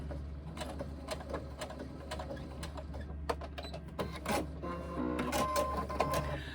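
A sewing machine stitches a seam along the base of a reversible tote bag, its steady mechanical whir and rapid clatter running continuously at close range with no talking.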